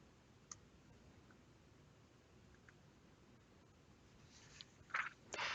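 Faint, sparse computer mouse clicks while a search is run in a college curriculum database, with a few soft isolated clicks and a closer pair of clicks near the end over quiet room hiss.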